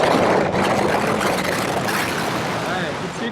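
A 2022 BMW S1000R motorcycle engine revs hard under acceleration, a loud, dense roar close by with rushing wind noise blending in throughout.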